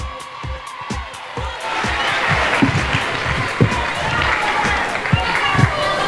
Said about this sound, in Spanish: Fuerte el aplauso para Musambe.